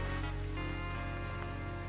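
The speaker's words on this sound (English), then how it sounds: "Problem is it's raining, so I go down when I go outside." Rain in the video game Phasmophobia falls as a steady, even hiss of drops on surfaces, heard close and constant throughout with no talk over it.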